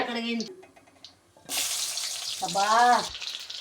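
Onions tipped into a heated pan for a Telugu brinjal curry burst into a sudden bright hiss that keeps sizzling, with a voice talking before and over it.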